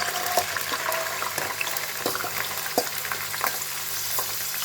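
Black chickpeas sizzle and crackle steadily in hot oil in a pan, a dense, close frying hiss with scattered pops and stirring scrapes throughout, no talking.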